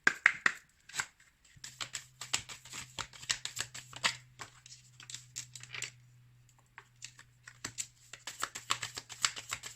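Oracle cards from The Hidden Truth Oracle deck being shuffled, a run of quick papery riffles and soft flicks close by, with a faint steady hum underneath and no talking.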